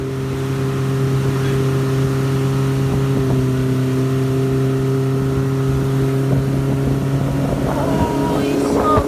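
A motorboat speeds across water with a steady, loud engine drone and wind rush, with a few faint voices in the background.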